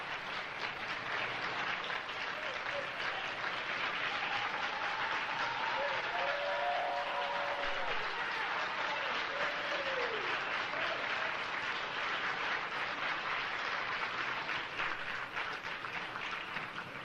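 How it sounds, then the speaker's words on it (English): Steady audience applause from a large crowd at an evening political gathering, dense continuous clapping held at full strength throughout with a few faint voices rising through it. "I want everybody to give her a round of applause."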